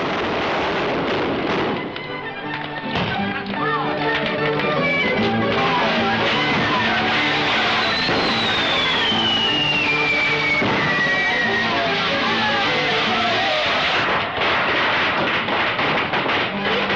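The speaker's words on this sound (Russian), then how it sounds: "Это фейерверк в честь новобрачных." A fireworks display honouring newlyweds in a 1943 film: repeated booms, crackles and thuds, with a long descending whistle midway, sounding continuously over orchestral music.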